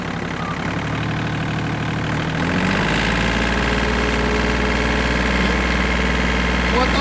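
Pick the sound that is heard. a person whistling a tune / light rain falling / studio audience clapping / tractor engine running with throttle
tractor engine running with throttle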